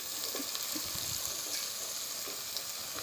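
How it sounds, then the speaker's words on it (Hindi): Onions with crushed garlic, ginger and dried coriander fry over raised heat in a pan, giving a steady close sizzle with faint stirring scrapes and no voices. "अब हम प्याज ब्राउन करेंगे।"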